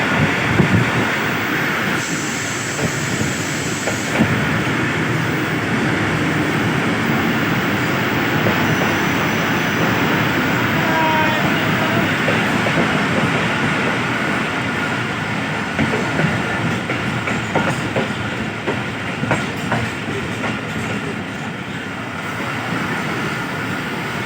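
A fast passenger train runs from Kotri to Karachi, its wheels and carriages producing a loud, continuous rumble with rhythmic clickety-clack from the rails, heard steadily throughout from on board without talk.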